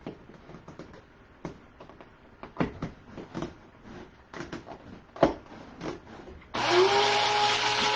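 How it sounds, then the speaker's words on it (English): Scattered clatter and knocks give way to a loud blender grinding keto coquito ingredients steadily over the last second or so. "let's go ahead and grind this down"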